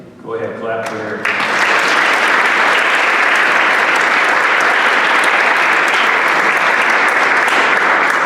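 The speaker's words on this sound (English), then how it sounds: "Go ahead, clap for Harry." A hall of fame induction crowd bursts into loud, sustained applause for hammer thrower Harry Weintraub, starting right after a speaker's voice and holding strong to the end.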